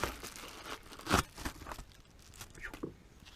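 Crinkly plastic packaging around a 1/8-scale brushless RC car motor rustles and tears in short, uneven bursts close by, a few louder crackles standing out.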